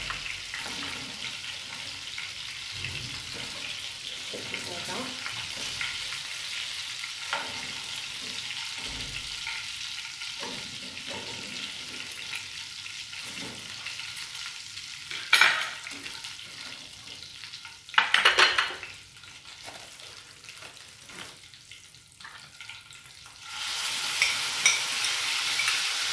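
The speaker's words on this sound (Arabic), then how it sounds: "بعد تقلات فيه دوك ندير البصله نبدا بها هي تاع ندبلها" Onion sizzles steadily in hot oil in a home kitchen while being stirred, a continuous close frying hiss with occasional scraping clatters and a louder burst near the end.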